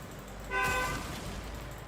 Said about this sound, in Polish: Oj, jakiś łosiek mi tutaj trąbi.